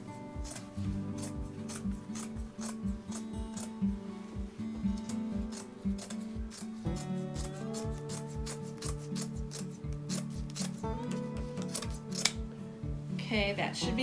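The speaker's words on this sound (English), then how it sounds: "So I'm just gonna cut." Scissors cutting material for a farmhouse home decor craft, a run of repeated crisp snips and rubbing scrapes in a quick uneven rhythm, close by, with soft background music throughout.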